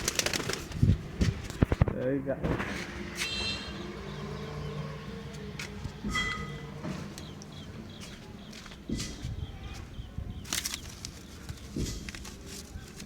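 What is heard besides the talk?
pigeons cooing and flapping on rooftop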